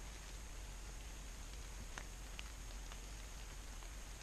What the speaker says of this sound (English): Sorry, the rain is throwing me off.